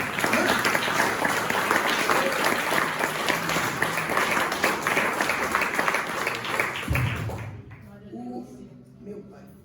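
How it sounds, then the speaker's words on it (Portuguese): A church congregation claps in sustained, dense applause for about seven seconds, close and loud, then it quickly dies away, leaving a few scattered claps and faint murmuring. "Você pode aplaudir Jesus, querido?"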